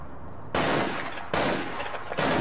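Rapid automatic gunfire in the online shooter APB Reloaded, three loud bursts of close, sustained shooting separated by brief lulls, with no talk.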